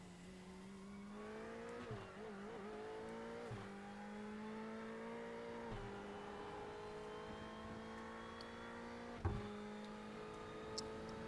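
Onboard engine note of a Ferrari GT3 race car in a racing video game at Barcelona, a steady high drone rising through the gears with sharp dips at each shift, alone without voices.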